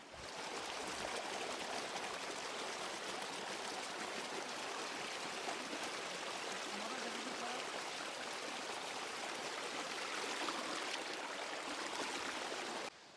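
Steady rushing of a waterfall and flowing stream in Vizag, a dense continuous roar of water with no voices.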